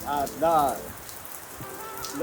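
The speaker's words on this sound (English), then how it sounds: "It's really strong rain right now." Steady hiss of heavy rain pouring down on a surface, with a voice talking loudly over it at the start before the downpour continues alone.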